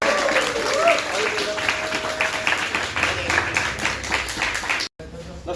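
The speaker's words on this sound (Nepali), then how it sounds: "ल जोरदार ताली सबै ल" Loud, dense audience applause fills the room, steady clapping with voices mixed in, breaking off abruptly near the end.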